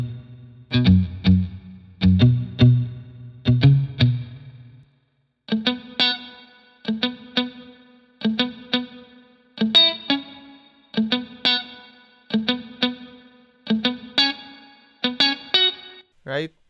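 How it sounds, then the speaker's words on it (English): Guitars in a song mix, processed with a Tone Locks tilt and EQ and played in an A/B comparison: rhythmic strummed chords with distortion and chorus, loud and alone, with a short break midway as the versions switch. "On the guitars, I use the tone locks tilt again and this EQ."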